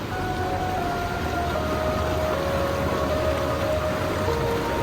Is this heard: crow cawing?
no